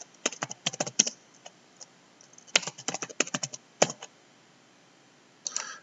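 Keystrokes on a computer keyboard typing a search term into a document management field, coming in quick close bursts of clicks with short pauses between them, then a brief rustle at the end, with no voices.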